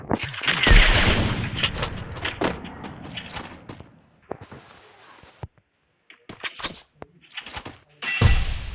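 Sniper rifle gunfire in a shooter video game: loud cracking bursts crowd the opening seconds, thin out into sparse quieter hits with a brief near-silent gap, then one strong blast comes near the end.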